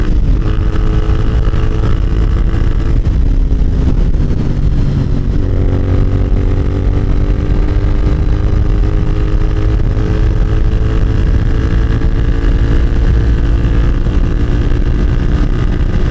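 A Royal Enfield Interceptor 650 motorcycle roars loudly and continuously as it accelerates up through the gears, its engine note climbing and dropping with each shift, close and steady throughout.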